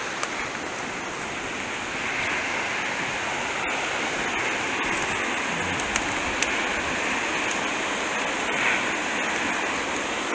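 Tennessee mountain waterfall on a brook trout stream, a continuous broad rushing roar at steady volume nearby, with a few small knocks and clicks over it and no voices.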